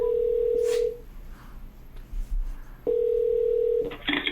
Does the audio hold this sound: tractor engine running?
no